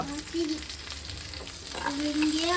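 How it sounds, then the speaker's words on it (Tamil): Onions frying in a pan while Bombay chutney is cooked, a steady hiss and crackle with a few brief tonal squeaks from the pan and no talk over it. "இப்போ வெங்காயம் போட்டுக்கிட்டாச்சு. நல்லா வதங்கணும், சரியா?"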